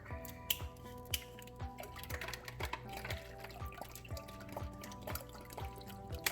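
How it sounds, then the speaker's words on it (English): Bottled water is poured into a cooking pot on a stove, giving a quiet trickle with scattered drips and small clinks that run steadily for several seconds, with no talking. "So all you do is pour the water, put the stove on high."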